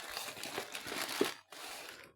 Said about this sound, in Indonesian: sekarang kita akan unboxing ya